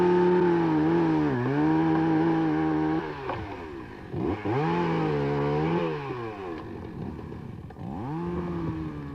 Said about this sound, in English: To many users of the Dene, the whine of a chainsaw is a hated sound.